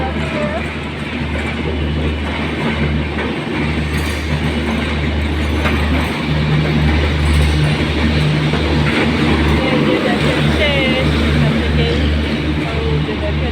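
A train rumbles past on the railway line with a loud, continuous roar and clattering wheels, nearby and sustained throughout, with a voice speaking over it.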